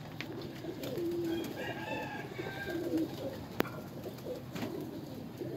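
Pigeons of a pure blood line coo softly in short repeated phrases, a few calls at close range over a low background murmur, with a single sharp click partway through.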